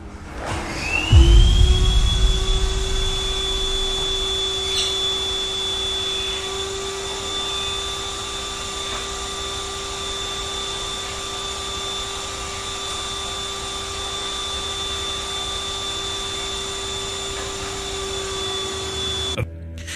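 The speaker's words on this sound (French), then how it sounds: "l'aspirateur se dérobe de son coin, s'écrasant sur le sol avant de s'allumer de manière autonome" A vacuum cleaner clunks, then switches on and runs with a steady, loud motor whine and high-pitched hum that continues unbroken to the end.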